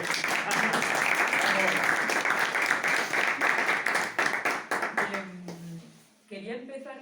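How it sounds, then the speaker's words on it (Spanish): Audience applause at a Spanish-language book presentation, a broad dense wash of clapping filling the room for about five seconds before tapering off, with voices emerging at the end. "Un aplauso."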